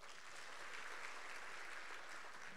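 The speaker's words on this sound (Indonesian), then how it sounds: "Berikan tepuk tangan yuk." Church congregation at a Sunday sermon claps together in a brief, even round of applause, soft and distant-sounding.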